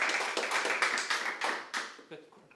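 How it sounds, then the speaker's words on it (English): Applause at a Berlin blockchain meetup after a volunteer loses a game on stage: a short burst of clapping from a small audience that thins out to a few scattered claps, with voices mixed in. "Give him a round of applause."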